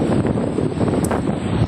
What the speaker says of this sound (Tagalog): Sobrang hangin eh.